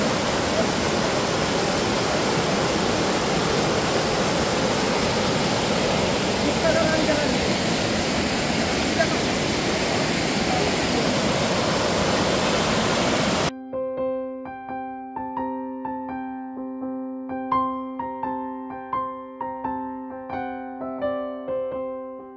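The waterfall at Panchalingeswar temple gives a steady, dense roar of falling water for about thirteen seconds before it cuts abruptly to instrumental music.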